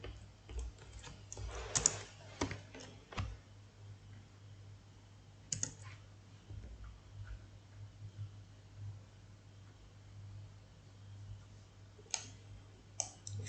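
Computer keyboard keys clatter in scattered bursts and single taps, close and fairly quiet, with short pauses between runs of typing over a steady low hum.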